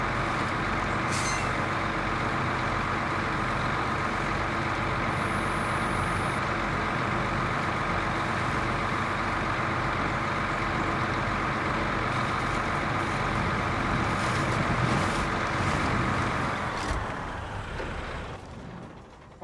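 A truck cruising in high gear, its steady engine drone and broad road rumble continuous and loud, with a brief air-brake hiss near the start and the noise tapering slightly at the very end.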